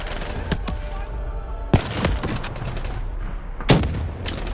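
Rapid bursts of automatic gunfire and heavy shots in the video game Call of Duty: Black Ops 3, with several sharp loud blasts punctuating a continuous battle din.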